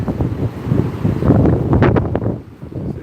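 Wind-driven waves on Lake Michigan in Chicago on a cold, snowy day, a steady rushing wash with gusty wind buffeting the microphone and a few brighter splashes near the middle.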